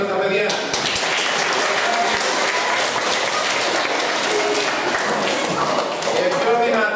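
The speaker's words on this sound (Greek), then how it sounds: "Μπράβο, χειροκρότημα στα παιδιά." Applause from an audience for children at a Greek philharmonic gathering, dense steady clapping with some thuds holding for about seven seconds, lively and close, with voices mixed into the crowd.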